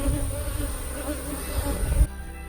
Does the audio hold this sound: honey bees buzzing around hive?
yes